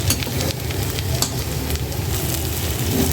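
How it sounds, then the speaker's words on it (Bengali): Spice masala being fried down in a pan in a home kitchen, a steady, fairly loud sizzle and crackle that carries on without a break, with no talking. "এই যে মশলা কষানোটা হয়ে গেছে আমার ছোট্ট মেয়েটা মশলাটা কষিয়ে ফেলছে"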